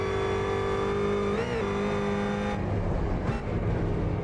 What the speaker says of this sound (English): Yeah, supercharger. You can hear the hiss.